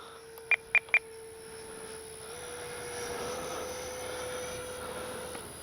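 A Freewing 70mm Yak 130 RC jet flies overhead, its ducted-fan whine a steady, fairly distant whoosh that swells slightly midway, preceded by three short electronic beeps.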